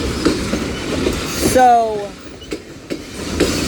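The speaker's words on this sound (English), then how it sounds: "So the end of the train is coming up soon." A Union Pacific mixed freight train passes Central Avenue, its wheels rumbling and clacking with a brief rising squeal, fairly close, while someone talks over it.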